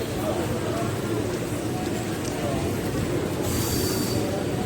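An Intercity Express train arriving at Ramagundam station, a steady rumble of rolling wheels and carriages with a brief high squeal near the end, under talk throughout.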